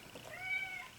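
A pet cat gives a single short, faint meow close by, rising and falling, with nothing else around it.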